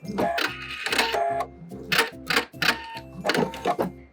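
A sewing machine back stitches at the end of a seam while a too-tight dress is being let out. The motor runs in short, rhythmic bursts with brief pauses between them, close up and steady.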